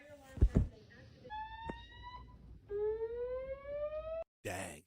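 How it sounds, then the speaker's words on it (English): An apartment building fire alarm sounds in steady electronic tones, several sustained pulses with a slight upward slide. The tones come between bursts of noise and a short spoken interruption. "The fire alarm has been activated in the building."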